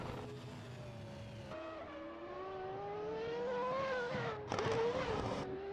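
An RC race car screams around a practice run at a racing event, its high-pitched motor whine rising steadily in pitch as it accelerates, then a sharp burst of revving near the end, loud and close with no talking.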